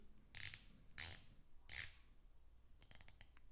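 A Luminox Navy SEAL quartz dive watch bezel is turned by hand, giving three crisp bursts of ratchet clicks up close, followed by a quick run of fainter ticks.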